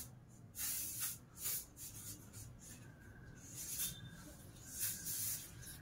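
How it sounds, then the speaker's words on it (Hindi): Hard-hold hair spray sprayed in several short hissing bursts while a reception party hairstyle is being finished, with soft rustling between the sprays. "हार्ड स्प्रे आपण थोडासा मारून घेणार आहोत"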